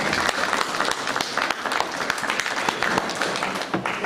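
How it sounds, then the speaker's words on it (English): An audience claps steadily in sustained applause, a dense patter of many hands filling the room. "Let's give Baba Oshi a round of applause."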